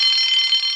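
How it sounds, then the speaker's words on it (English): A steady, loud electronic alarm rings continuously in a children's animated railway engine show, a sustained high-pitched tone with no pauses and no voices over it. "Soon came the alarm."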